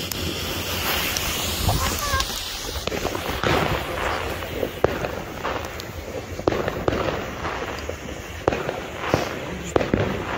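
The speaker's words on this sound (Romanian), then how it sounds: "Și așa dăm și la șiroță de petarde." A string of firecrackers goes off at a New Year celebration, a rapid irregular run of sharp cracks and bangs over wind and crowd rumble, with some voices in the background.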